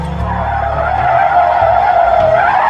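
A car skids to a stop with a sustained tire squeal and screech over engine rumble, loud and close, used as a horror story sound effect.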